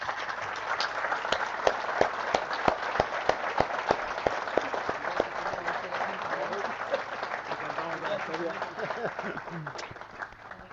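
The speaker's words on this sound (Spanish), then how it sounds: "primero un fuerte aplauso" Strong audience applause at a turfgrass conference (Jornada de Césped) fills the whole stretch, dense sustained clapping with sharp individual claps, steady and close throughout.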